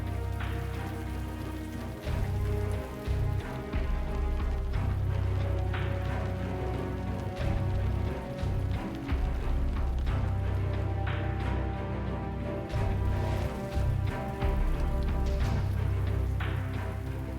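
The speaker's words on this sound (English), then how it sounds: "Rained out again." Rain falls at night in Rhode Island, a constant close patter on surfaces with denser bursts and slight swells in level, and no one speaking.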